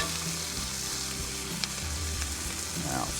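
Peppers and onions sautéing in a hot pan, a close, steady sizzle with a few stirring scrapes and no talk.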